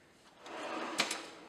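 A kitchen drawer slides with a soft wooden rumble, ending in a quiet knock and a faint second tap, up close in a quiet room.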